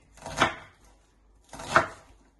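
Two crisp knife chops into food on a cutting board, about a second apart, close and clear with nothing else around them.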